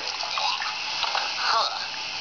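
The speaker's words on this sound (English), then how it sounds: "he got water in the face" In the Luigi's Mansion 2 video game, water splashes into a character's face as a short, hissing gush of spray that lasts about two seconds.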